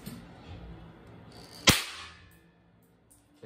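A homemade BB gun built from a cap gun fires once, a single sharp crack standing out near and loud against a quiet room, followed by a short fading ring.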